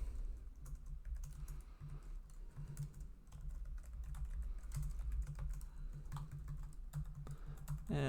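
Fast, steady clatter of fingers typing code on a computer keyboard, close and fairly quiet, with continuous keystrokes and small pauses between bursts.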